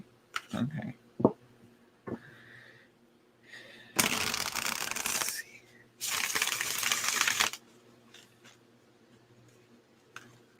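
Tarot cards riffle and slap in two long bursts of papery shuffling, with a few taps and soft clicks around them in a quiet room.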